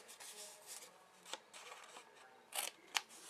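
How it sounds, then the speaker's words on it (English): Scissors snip through scored paper card tabs on a craft table, a few short, crisp cuts with soft rustling and handling between them, close and quiet. "you're just going to cut all the way in to this score line"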